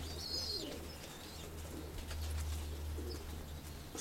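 Pigeons kept in a loft coo in soft, repeated low phrases. The calls sit over a steady low hum with faint chirps and outdoor ambience, and nobody speaks.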